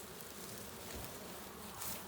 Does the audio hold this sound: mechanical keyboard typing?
no